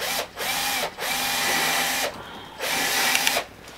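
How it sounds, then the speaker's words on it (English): Power driver sinking two screws into an electric unicycle mudguard: bursts of high whirring motor noise, each running about a second, separated by short pauses, loud and close. "we're just going to put 2 screws in this thing and screw it in"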